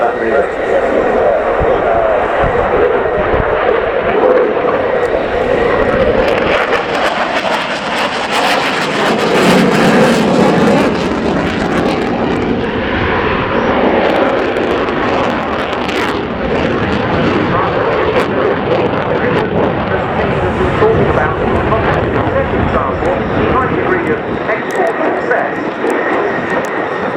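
Saab JAS 39C Gripen fighter jet of the Swedish Air Force performing a slow roll at the RIAT air show at Fairford, a loud, continuous jet roar that swells and fades overhead, with a commentator talking throughout.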